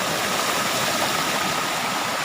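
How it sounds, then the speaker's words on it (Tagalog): Waterfall in a mountain virgin forest near Tagaytay, a loud, constant roaring rush of falling water with a dense, even texture and no break, heard alone without voices. "Ito na po yung falls."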